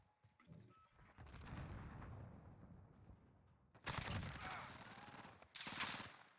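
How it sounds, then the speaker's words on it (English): Gunfire from the video game Modern Warfare: a rumbling stretch of distant shooting, then two loud, dense bursts of rapid fire close by, with a little voice in the background. "Getting shot at. We're taking fire here!"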